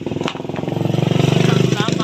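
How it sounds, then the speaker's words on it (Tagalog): Motorcycle engine running close by outside a house, a loud rhythmic putter that speeds up slightly, with a voice talking over it. "sabag ang motor nila ba?"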